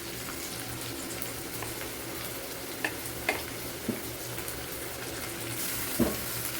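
Ginger paste and chopped tomato fry in a pan for a vegetarian coconut ghugni, giving a steady soft sizzle with a few sharp clinks of a stirring utensil scattered through, close and without talk.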